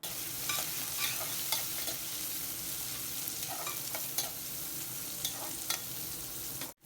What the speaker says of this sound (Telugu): ఆయిల్ హీట్ అయింది ఇప్పుడు ఇందులో ఒక హాఫ్ స్పూన్ జీరా అలాగే ఒక పావు స్పూన్ ఆవాలు వేసుకొని ఆనియన్స్ పచ్చిమిర్చి కూడా వేసేసుకుందాము